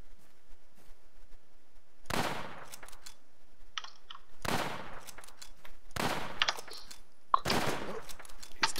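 Bursts of rapid gunfire in the video game Infestation: Triples, four sharp volleys separated by short quiet gaps, loud and close with no talk over them.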